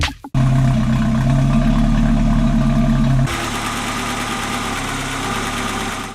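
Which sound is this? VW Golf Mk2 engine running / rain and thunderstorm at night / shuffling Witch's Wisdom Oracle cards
VW Golf Mk2 engine running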